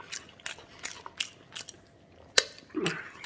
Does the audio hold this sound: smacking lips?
yes